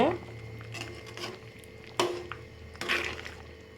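Boiling pork curry in Tirunelveli style being stirred in a pot, with faint scraping and clinking of a spoon against metal and a few soft wet squishes over a low background hum.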